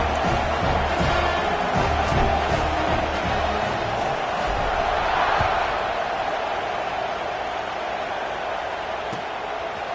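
A football stadium crowd at a Rutgers vs Iowa game keeps up a loud, sustained roar and buzz after a touchdown, staying dense for the whole stretch and easing slightly toward the end.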